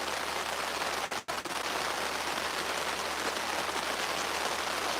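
Heavy rain drumming steadily on a canopy overhead during a fishing outing, a loud continuous wash with one brief dip in the middle.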